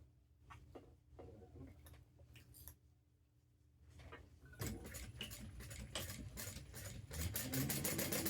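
A sewing machine stitches seam knots on a Laura Jean garment. Light handling clicks come first, then rapid, steady stitching starts partway through and grows louder, running continuously to the end.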